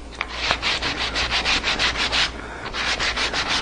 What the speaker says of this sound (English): the only reason I'm sanding that little edge off right there is because I need to be able to flip this one.